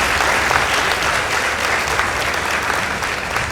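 An audience gives a full, steady round of applause for the Mbale High School debaters, many hands clapping densely and evenly from start to finish with a slight fade near the end.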